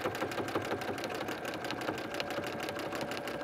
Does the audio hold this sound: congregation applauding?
no